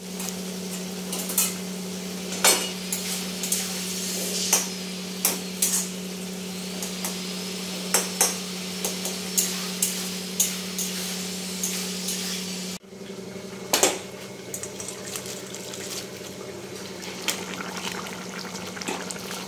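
Fish and potato curry stirred in a pot after a little water goes in, with repeated spoon clinks and scrapes over a steady low simmering hum, close and fairly loud throughout.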